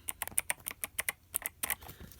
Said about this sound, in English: here's the keyboard